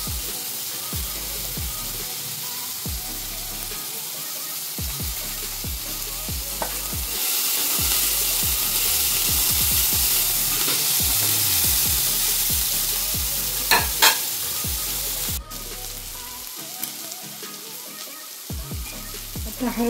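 Ginger garlic paste sizzles steadily in a hot pan while mushroom curry is cooked, a continuous near frying hiss with a few stirring scrapes and clinks and no voices.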